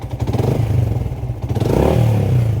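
A motorcycle engine idles close by, its low exhaust pulses thumping in a steady, slightly uneven rhythm. The note swells a little louder toward the end, with no talking over it.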